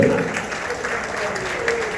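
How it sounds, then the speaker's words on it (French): Audience applause for award winners at a prize ceremony, a steady broad wash of clapping that lasts the whole stretch with no lull. "Applaudissons encore nos lauréats"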